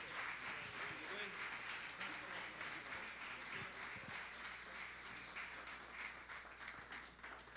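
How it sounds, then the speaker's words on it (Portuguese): Church congregation applauding during a Portuguese-language worship service, a soft, distant wash of clapping with talk and murmuring mixed in, held steady at low level throughout. "E eu quero que você aplauda Jesus."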